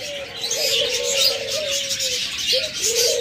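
Several caged birds, including lovebirds, doves and parakeets, call close by in a busy mix of chirps and repeated cooing notes, with a hissy chatter of many small birds behind.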